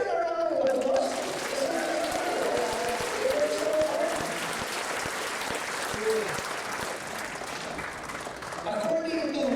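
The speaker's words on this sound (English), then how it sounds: "Can we give them a round of applause?" Applause fills an audience hall at a national Catholic conference in the UK, dense and steady for nearly ten seconds, with voices rising through it near the start and again at the end.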